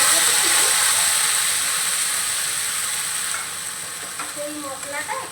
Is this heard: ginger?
yes